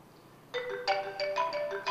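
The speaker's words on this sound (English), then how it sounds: "I got a phone call coming in." An iPhone incoming-call ringtone starts abruptly and plays a bright, chiming melodic pattern of repeated notes, clear and close, with no voices.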